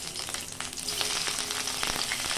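Sliced tomato pieces dropped into lightly heated white oil in a pan, giving a steady crackling sizzle that holds for a couple of seconds close up, with no talking.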